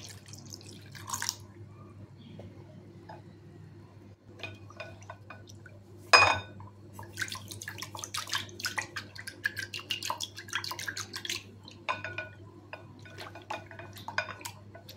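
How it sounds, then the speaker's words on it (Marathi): Water poured into a curd and gram flour mixture for kadhi: a sharp splash mid-way, then faint trickling, splashing and light clinks of a vessel, with quiet stretches before. "आता आपल्याला ह्याच्यामध्ये पाणी टाकायचं आणि पाणी टाकून आपल्याला ते मिक्स करून घ्यायचं।"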